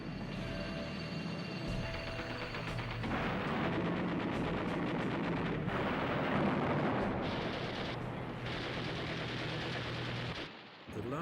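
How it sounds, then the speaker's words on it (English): Wartime footage of bombs exploding on an aircraft carrier, with dense, rumbling blasts and crackling that run almost without a break before dropping away near the end. "she took a bomb which penetrated 4 decks before exploding."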